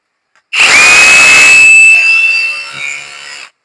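A cordless battery drill runs alone, loud and close, with a sharp start followed by a steady high whine that eases off and slows before cutting out.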